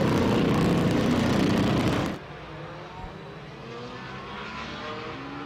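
Group 9 vintage race cars pull out onto the COTA circuit, a loud engine roar up close for two seconds that cuts off abruptly, leaving a fainter distant drone of other cars.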